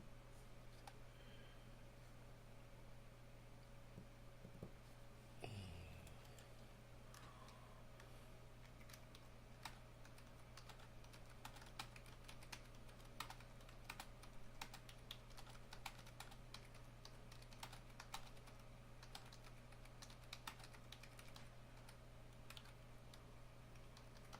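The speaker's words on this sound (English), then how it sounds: "When you see me typing" Typing on a computer keyboard during a live online interview, heard as a steady run of faint, quick clicks over a constant background hum, with no talking.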